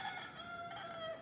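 A rooster crowing in a quiet rural province in the morning near a church, one long crow that is faint and distant, with no voices.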